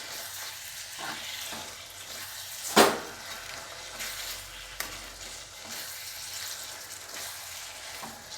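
Soybean chunks stir-fried in a pan, a soft steady sizzle with light stirring scrapes and one sharp clatter of utensil on metal, no talking.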